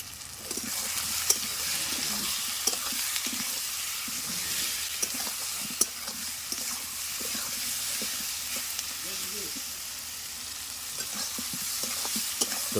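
Spices with turmeric and salt fry in a pan for a chicken and potato curry, a constant close sizzle under repeated spoon stirs and small clinks that keep an uneven rhythm throughout.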